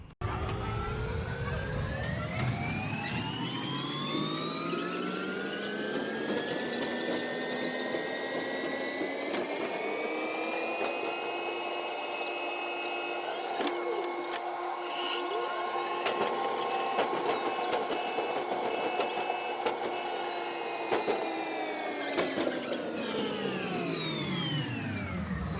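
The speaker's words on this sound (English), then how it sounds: "get to Terminal 2 by a quick sky train" Airport sky train ride between terminals, an electric motor whine rising in pitch as it accelerates, holding a steady tone while cruising, then falling as it slows, with constant rolling hum and occasional clicks throughout.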